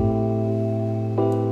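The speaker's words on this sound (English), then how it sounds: "I had to filter the high end. So I'm left with only the low end." Deep, muffled synth bass holding a steady low tone with the treble rolled off, briefly shifting pitch near the end, with no voices.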